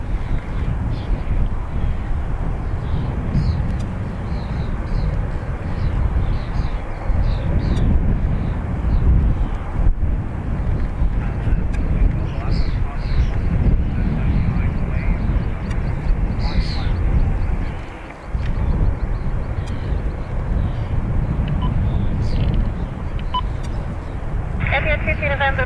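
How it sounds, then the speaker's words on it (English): Etihad Boeing 787-10 Dreamliner departing Dublin Airport for Abu Dhabi, a continuous broad jet roar with gusty wind on the microphone, loud and steady throughout the takeoff. "EY46 is this 787-10 Dreamliner off to Abu Dhabi."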